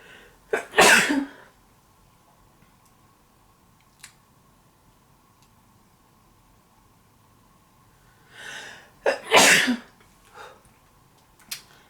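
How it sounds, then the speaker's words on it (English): Two loud sneezes separated by several seconds of near silence, each with a sharp intake before the burst, with a faint click between them. "anytime I sneeze, I never sneeze just once"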